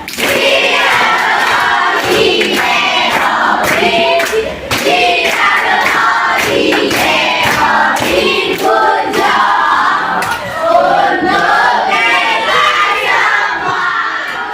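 A classroom of students breaks into loud, continuous clapping mixed with shouting and cheering, energetic and close throughout with a few thumps.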